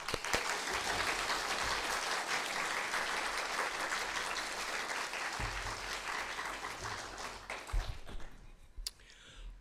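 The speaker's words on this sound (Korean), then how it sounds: "우리 장로님 나오실 때 큰 박수로 우리 환영하도록 하겠습니다." A church congregation gives sustained applause to welcome an elder, a dense wash of many hands clapping that carries for several seconds, then thins out into scattered claps and quiet.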